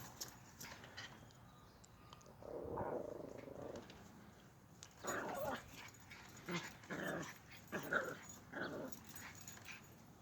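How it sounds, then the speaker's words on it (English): Miniature Pinscher x Deer Head Chihuahua puppies play early in the morning, their small growls, scuffles and paw patter rising in short bursts over a quiet room. "these are puppies, and this is how they act early in the morning"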